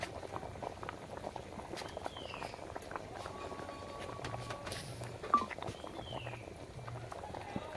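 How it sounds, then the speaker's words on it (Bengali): Rohu fish curry with potato and drumstick stalks bubbling in a pot, a steady soft gurgle and patter at low level, continuous with small clinks. "আমাদের ঝুলটা জাল খাইয়া গেছে"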